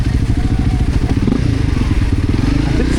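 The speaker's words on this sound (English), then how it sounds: "dirt bike tires do not perform well on ice" Dirt bike on a dual-sport ride slipping on ice, its engine droning loud and steady up close with scattered clatter and scraping throughout.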